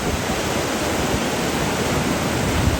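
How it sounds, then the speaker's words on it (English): Heavy surf pounds a New Jersey shore at the Wildwoods after Hurricane Erin, a dense, continuous roar of breaking waves and churning whitewater that stays loud and steady throughout, with no voices. "we've got some gnarly waves out here today"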